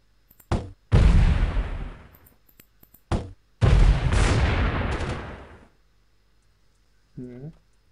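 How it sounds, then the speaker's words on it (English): Pistol shots ring out in the Delta Force video game, a few sharp isolated cracks followed by two long, loud reverberating bursts that fade, then a short voice-like sound near the end. "somebody's shooting with a pistol"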